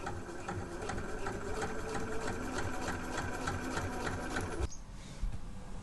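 A sewing machine understitches a caftan neckline, its needle running in a steady, rapid mechanical patter for several seconds before stopping abruptly, close and clear with no talk over it.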